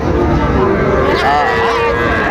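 Cattle at a weekly rural livestock market selling small bulls and heifer calves, a loud, close moo rising above dense crowd chatter and the continuous din of the market.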